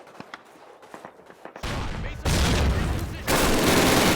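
Machine gun fire bursts out in a Call of Duty battle, dense rapid volleys building from scattered shots into loud sustained fusillades, with an explosion-like roar in the mix.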